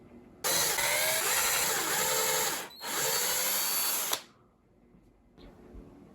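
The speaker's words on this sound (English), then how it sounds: "So let's drill the 4 holes." A power drill whines loudly while boring holes in a headless electric guitar body, in two long bursts with a short dip between them, then stops, leaving a quiet workshop.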